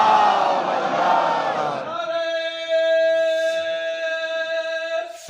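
A large crowd at an Eid prayer gathering roars a religious slogan in unison, a loud massed shout that breaks off as a single amplified voice begins a long, sustained, ringing call.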